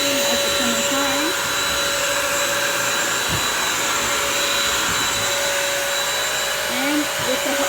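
A Bissell Crosswave corded vacuum washes a hardwood floor, its motor whining loud and steady throughout with a constant high tone, and the floor being scrubbed and vacuumed at the same time.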